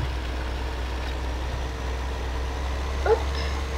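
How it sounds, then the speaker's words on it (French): A tractor engine from the Farming Simulator 15 video game idles in a steady low rumble, constant and fairly close, with a faint brief tonal blip near the end and no talk. "Alors, on va ramener le tracteur à la maison."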